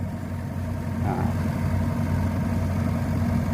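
Komatsu PC120 excavator with a Cummins turbo diesel engine idling steadily, a constant low rumble with a faint brief rise partway through.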